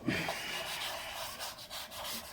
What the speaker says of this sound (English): Abrasive paste, really kind of inexpensive. Just apply it